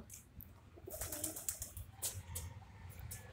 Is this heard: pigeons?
yes